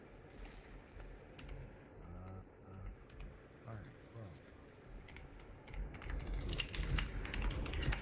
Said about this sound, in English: your typing is still kind of loud